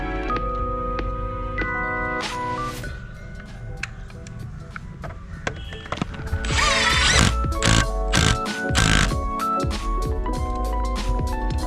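Ratchet wrench clicking in quick bursts while a 17 mm one-way clutch bolt is tightened on a Royal Enfield motorcycle, close and fairly loud over a steady background hum, with no talk.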